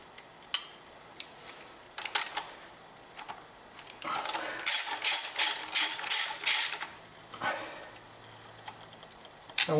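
A ratchet clicks close up while loosening 10 mm valve cover bolts and nuts on a 2000 Acura 3.2 TL, with scattered single clicks followed by a rapid run of sharp ratcheting strokes.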